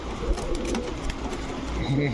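Pigeons kept for sale, including Sharanpuri, high-flyer and racing birds, cooing softly nearby in low repeated calls beneath someone talking.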